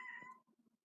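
A cat meows once, close and clear, with a short voiced tail of softer chirps trailing off right after, heard on its own.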